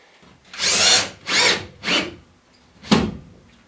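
A power drill drives screws into a board during wardrobe panel installation: four loud whirring bursts of about half a second each, separated by short pauses, close by with no talking.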